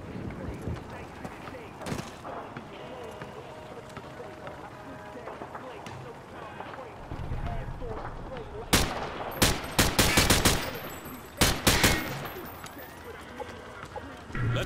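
Hip-fire bursts in Modern Warfare 2 crack out in loud clustered volleys, the heaviest near the end, with game voices and ambient battle noise in between.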